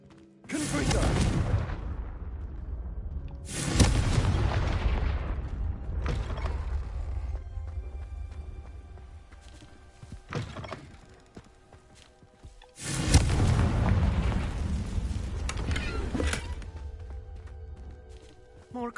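Repeated heavy Confringo blasting-curse explosions from Hogwarts Legacy boom out in several loud bursts, each trailing off into rumble, with creaks and movement in between.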